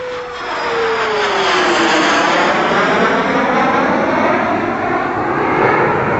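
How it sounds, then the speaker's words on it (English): Space Shuttle Discovery rolling out on Kennedy Space Center runway 33 after landing from STS-95, a loud, steady broadband jet-like roar with a descending whine, sustained throughout with no talk. "Discovery rolls out on runway 33"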